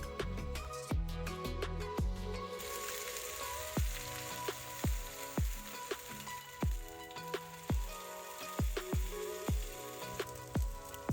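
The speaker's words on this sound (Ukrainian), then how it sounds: "На сковорідку наливаю олію і викладаю по столовій ложці натерті овочі." Oil sizzles and crackles steadily in a pan as grated pumpkin fritters fry over low heat, with a series of regular soft thumps and taps recurring over the frying.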